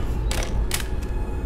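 Gun reloading in the video game Left 4 Dead 2, two quick mechanical clicks and a softer third clack over a steady background hum, heard alone without talking.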